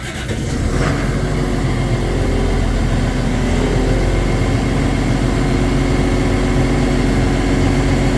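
A LiuGong 920E excavator's engine runs steadily and fairly quietly from start to end, a constant low drone with a faint hum, heard from close by with no one talking.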